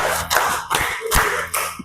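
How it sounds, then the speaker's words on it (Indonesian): A classroom group claps a short rhythmic pattern in unison, sharp clustered hand claps repeated in bursts, close and fairly loud with no talking. "Kita berikan tepuk segitiga 2 kali untuk kelompok 1."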